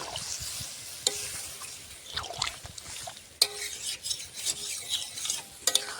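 Hot water goes into a pan of frying Bengali chicken kosha with potatoes, making a hissing sizzle with sharp bursts and spoon-scraping stirs, close and steady, with no talk.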